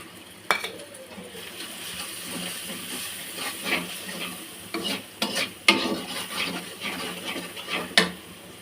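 Spices with turmeric, chili, cumin, coriander and salt sauté in oil in a pan, with a faint sizzle under intermittent scraping stirs and a few sharp utensil knocks, close and moderately quiet.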